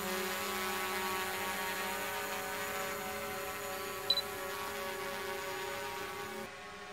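A DJI Mavic Pro drone hovering just after a hand launch, giving a steady, fairly loud high-pitched propeller whine with layered tonal hum that holds evenly for several seconds, with a brief click near the end before the tone drops slightly.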